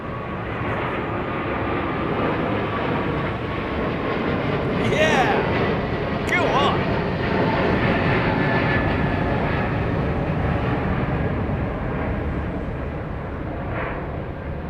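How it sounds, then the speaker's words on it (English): A jet airliner engine spooling up at London Heathrow Airport: a loud, steady, broadband roar that swells gradually and holds throughout, heard from a distance with a person talking over it. "I don't know if you heard the spool up on that jet, but it's a very sort of like odd, almost metal to metal noise"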